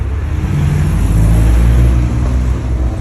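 Porsche rushing past on a road toward the Nürburgring, a loud, close engine roar with heavy low rumble that swells and holds for a few seconds, with no voices.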